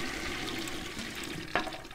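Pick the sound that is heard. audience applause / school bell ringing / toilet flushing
toilet flushing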